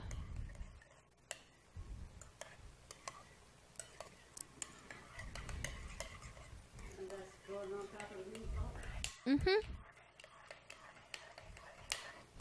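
A spoon stirs plant-based BBQ sauce mixed with olive oil in a bowl, giving soft irregular ticks, taps and scrapes, close but quiet, with a voice speaking faintly in places and a louder clatter near the end.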